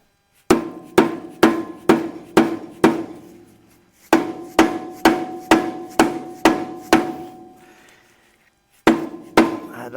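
A dead blow hammer striking engine parts during an engine teardown, two runs of about eight and seven sharp, evenly spaced knocks each, then two more hits, close and loud with short ringing decays and no talk.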